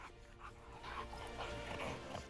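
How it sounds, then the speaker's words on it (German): A rescue dog from the Arbeiter-Samariter-Bund search team whimpers and yips faintly while searching for an injured person, soft, close canine sounds with no talking. "Diese Spürnase ist Teil der Rettungshundestaffel des Arbeiter-Samariter-Bundes und gerade auf der Suche nach einem verletzten Menschen."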